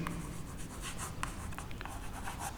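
A marker or chalk scratches quietly across a board while the words 'potential difference' are written during a physics lecture on capacitors, with short, uneven strokes up close.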